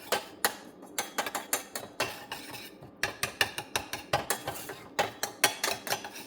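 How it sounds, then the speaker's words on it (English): A utensil stirs white wine around a pan in quick, repeated scraping clinks, a busy rhythmic tapping with a brief pause midway, close and fairly soft, with no talking. "I'm gonna add in my white wine and stir that in a little bit"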